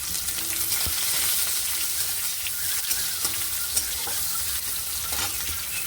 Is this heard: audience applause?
no